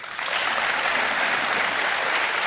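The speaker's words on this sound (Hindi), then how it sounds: "तालियां बजती रहे रुक्मिणी जी के लिए" Steady, dense applause from a large studio audience on the game show Kaun Banega Crorepati, swelling quickly and holding loud and continuous without any talk over it.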